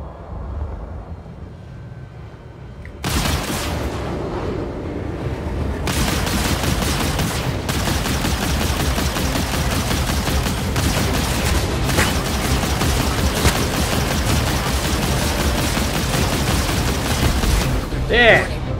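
Rapid spaceship gunfire in Star Citizen, dense bursts of shots and booming impacts over a continuous engine roar during a space dogfight, starting abruptly after a quiet stretch and running loud for the rest.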